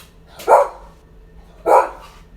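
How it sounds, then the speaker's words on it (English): A dog named Zora gives two loud, close barks about a second apart in a quiet indoor room. "Don't bark at the baby, Zora."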